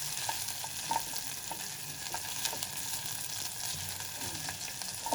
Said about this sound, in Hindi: अब इसके अंदर हम शामिल कर देंगे अदरक लहसुन। हल्की सी अदरक लहसुन की हीट को हम मारेंगे।